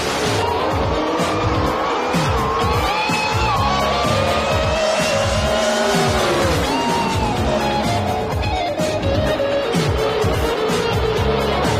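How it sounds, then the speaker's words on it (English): Jim Oddie's lone Pro Modified Corvette, a 6.69-second ET record holder, roars down a drag strip with a loud, rising engine howl and tire squeal, close and sustained, with sweeping pitch changes as it accelerates and passes. "The unorthodox lone Corvette of Jim Oddie, a 669 ET record holder."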